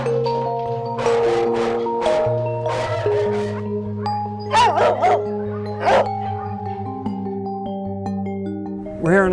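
Many dogs left behind in an abandoned hoarding case inside a building bark, yip, howl and whimper all at once, a loud, close, overlapping chorus with no break.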